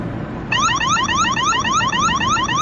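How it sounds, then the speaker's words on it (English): A rat repellent alarm switches on abruptly and sounds loud and close, a shrill electronic tone sweeping up in rapid repeated chirps that continue without a break. "let's see if the wise alarm will repel this guy"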